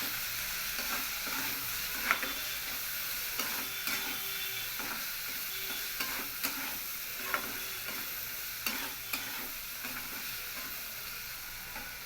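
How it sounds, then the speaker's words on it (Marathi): A vegetable filling of peas, onion and tomato for a Kolhapuri veg sandwich is stirred in a hot pan, giving a steady oil sizzle broken by regular soft scrapes and taps of the spoon. "हे सगळं मिक्स करून घ्यायचं आहे आपल्याला"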